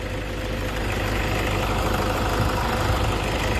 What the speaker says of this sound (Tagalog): Ang ganda po ng tunog ng makina.